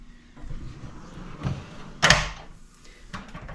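A heavy metal drawer on a five-drawer rolling tool cart slides open with a rolling rumble and a sharp clunk as it stops, followed by a few faint rattles.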